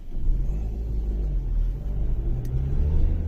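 A car rumbles along at low speed with a steady engine drone and road noise, heard from inside the vehicle as it swings through a U-turn on a Sunday morning street in Genoa.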